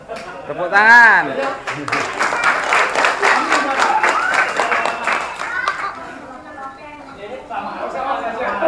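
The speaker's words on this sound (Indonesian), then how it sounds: "Tepuk tangan." Children applaud together at a community relief event after a landslide in a village, a dense burst of clapping mixed with young voices and chatter, with an adult voice speaking over it near the start.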